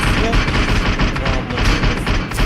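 Rapid bursts of gunfire in the mobile battle-royale game PUBG Mobile, loud and dense throughout, with players' voices mixed in.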